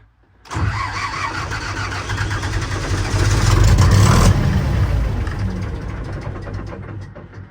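A car engine cranks and catches on a second start attempt, then keeps running loud and steady close by for several seconds as it warms up, with no talking.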